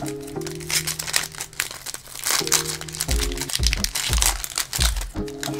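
The foil wrapper of a 2021 Optic football trading card pack is ripped open up close, with repeated crinkling and tearing bursts over several seconds and background music playing.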